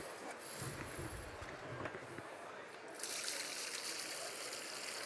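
A mixing drill fitted with a bucket brush spins in about three inches of water inside a bucket, giving a steady close churning and sloshing that grows louder and brighter partway through.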